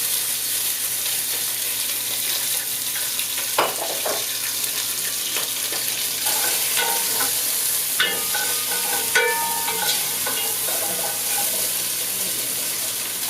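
Already boiled beef tipped into a sufuria and stirred for a stew, a steady wet hiss beneath scattered clinks and scraping knocks of a spoon against the metal pot, close by with no voices.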